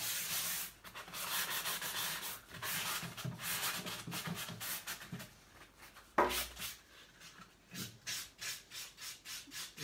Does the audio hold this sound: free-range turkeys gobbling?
no